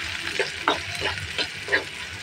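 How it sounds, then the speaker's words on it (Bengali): Chopped onion and green chilli fry in a wok, with a soft sizzle and a few brief stirring scrapes at a close, moderate level. "সেখানে আমি কিছুটা পেঁয়াজ কুচি আর একটু কাঁচামরিচ দিয়ে দিলাম।"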